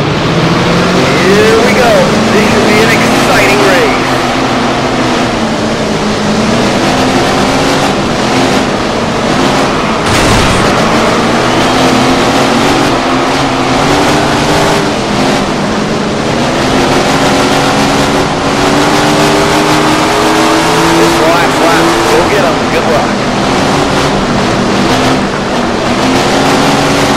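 Sprint car engines racing in the Tony Stewart Sprint Car Racing game, a loud continuous roar of several engines with rising and falling revs throughout, a commentator-style voice talking over it.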